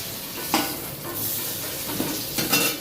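Potatoes sizzle in hot oil in a pan while a mutton curry is prepared, a steady frying hiss broken by a few clinks of a stirring spoon against the pot.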